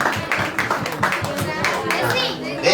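A church audience claps for small children in quick, uneven bursts of applause, with a voice and children's chatter mixed in over the clapping.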